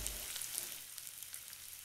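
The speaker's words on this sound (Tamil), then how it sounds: "கொஞ்சம் மஞ்சத்தூள் போட்டுக்கோங்க. வெங்காயம் நல்லா பொன்னிறமாக வரும் வரைக்கும் வதக்கிக்குங்க." Onions sautéing with turmeric in a pan for a Tamil-style chicken dish, a soft steady sizzle with faint stirring scrapes, quiet and close, no voices.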